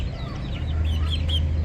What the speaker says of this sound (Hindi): ये मुर्गी है चूज़ों के साथ